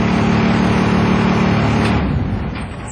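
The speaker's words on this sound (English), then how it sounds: "There it goes. Did you hear it go?" School bus engine starting and settling into a loud, steady diesel rumble that fades slightly toward the end, with no talk.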